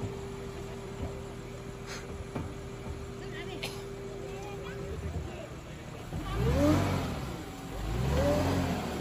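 Porsche Cayenne SUV engine revving hard while climbing an off-road slope, a steady drone swelling into two loud rising surges near the end, with people talking over it throughout.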